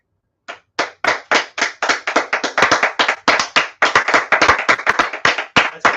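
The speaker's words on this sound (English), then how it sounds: "there's clapping again" A single person claps in a quiet room, loud, close, sharp hand claps starting after a brief silence and speeding into a rapid, slightly uneven rhythm of around thirty claps.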